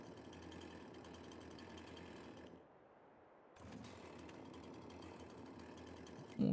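A tractor or work vehicle engine running steadily in Farming Simulator 22 while firewood is being made, a continuous low drone that dips briefly in the middle before resuming at full level.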